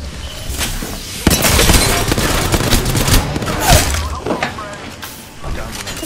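Apex Legends gunfire erupting in heavy bursts of loud close shots with sharp impacts and cracks, mixed with in-game character voice lines and effects throughout.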